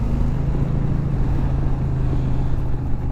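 A Honda VTX 1300 cruiser motorcycle rides under acceleration, its engine a steady low drone mixed with constant wind rush, close and loud throughout with no talking.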